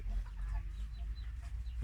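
Chickens clucking on a Thai poultry farm, a steady low murmur of several birds close by with scattered soft calls and no voices.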